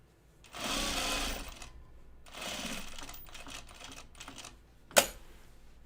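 A sewing machine stitches denim jeans in two close bursts of rapid mechanical whirring, followed by lighter intermittent clicks and a sharp single clack near the end.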